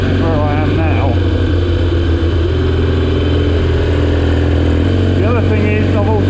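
Classic Triumph Desert Sled motorcycle with a motocross tyre riding along a steadier road, a steady low engine drone running throughout at close range, with a few rising whistling tones over it.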